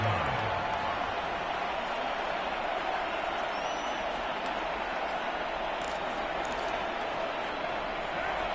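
A Madden 22 football stadium crowd keeps up a steady, distant roar through a Raiders drive after back-to-back punts. The noise stays even and fairly low in level, with no clear cheers or peaks.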